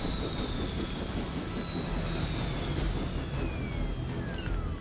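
A helicopter in the Marvel Midnight Suns video game roars steadily with a dense, continuous engine and rotor wash, loud and unbroken throughout, with faint whining tones sliding downward and no speech.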